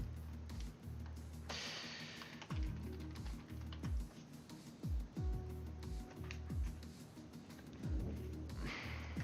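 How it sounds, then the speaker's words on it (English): Keystrokes on a computer keyboard tap out a steady, irregular run of clicks close to the mic, fairly quiet against a low background hum. "I'm just typing to him right now."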